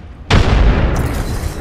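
A grenade goes off in the Apex Legends video game, a sudden loud boom after a brief quiet moment, followed by a heavy rumbling blast that lingers and slowly decays.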